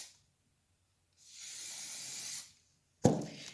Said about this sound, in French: on vient redonner un coup de spray pour mettre le plus foncé